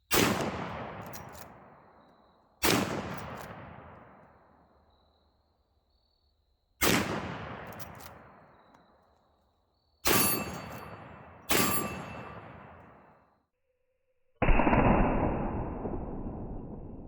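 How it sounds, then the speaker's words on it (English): Five loud, sharp gunshots from a .44 Magnum firing Underwood Extreme Hunter ammunition, spaced irregularly a few seconds apart, each with a long decaying echo, followed by a sustained rumbling noise at the end. "Now let me shoot these last 5 rounds."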